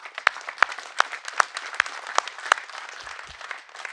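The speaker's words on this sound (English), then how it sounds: "Give them a round of applause." Boys at a coaching clinic clap for their teammates, a thin, loose scatter of individual claps that starts crisp and spaced, then fades into softer patter near the end.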